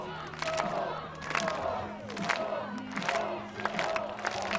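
At a college ultimate frisbee final, the D-III men's championship of 2022, a crowd chants and cheers in rhythmic surging bursts roughly every second, loud and close, with no clear talk.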